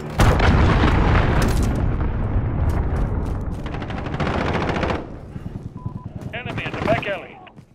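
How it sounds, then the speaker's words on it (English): Cruise missile strike in Call of Duty: Modern Warfare, a loud sustained barrage of explosions and rapid gunfire that rumbles on for several seconds before tapering, with game radio chatter and beeps near the end. "Allied cruise missile launched."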